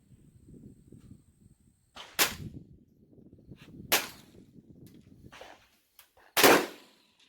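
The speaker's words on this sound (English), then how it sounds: "I'm gonna shoot another one, see if it's still low." Ruger Precision Rifle 6.5 Creedmoor fired at a 200-yard range, with three sharp, loud cracks spaced a couple of seconds apart, the last the heaviest, over faint background rustle.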